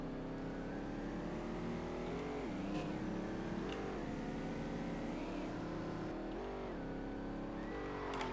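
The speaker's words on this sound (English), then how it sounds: "It sounds like a V8 and it's got a whine on it." A Mustang's V8 engine in the game Street Legal Racing Redline revs repeatedly, rising and dropping in pitch with a high whine above the rumble, loud and continuous with no voices.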